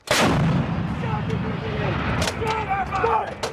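A U.S. Marine M777 towed 155mm howitzer fires one heavy, booming live round at close range, with the blast rumbling on while crew voices shout over it during the exercise.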